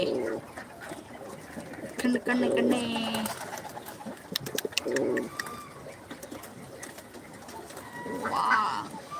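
Pigeons coo nearby in a few soft, throaty bursts, mixed with other bird calls, while a person talks over them.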